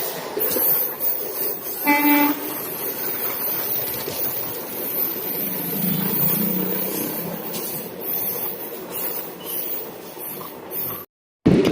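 A Punalur–Madurai Express passenger train runs past near Mayyanad railway station, a steady rumbling roll of wheels and carriages with a brief horn toot early on, sustained and close before a sudden cut.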